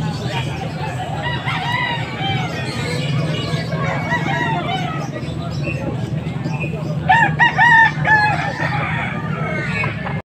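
A rooster for sale in Pampanga crows loudly nearby near the end, over steady background chatter of voices and other birds throughout.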